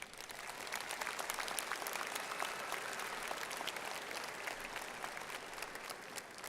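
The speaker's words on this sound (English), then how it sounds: "I think they deserve a great big round of applause" Audience applause fills a high school graduation ceremony, steady and dense throughout with many hands clapping at once, moderately loud and sustained without letting up.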